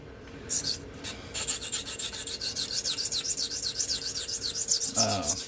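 A Remington Barlow knife blade is drawn across 120 grit Gritomatic abrasive to cut a bevel, giving close, repeated rasping strokes in a steady rhythm.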